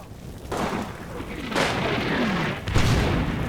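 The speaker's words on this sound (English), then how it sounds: "my artillery is still falling" Artillery shells fall in Combat Mission Red Thunder, a WWII wargame, with three heavy booming impacts spaced about a second apart, each leaving a rolling rumble between the blasts.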